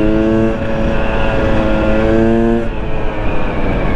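A 2020 KTM 300 EXC TPI two-stroke motorcycle engine runs loud and close, with a steady tone that drops after a few seconds to a lumpy, rattling idle.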